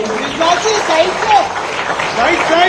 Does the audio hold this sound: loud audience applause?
yes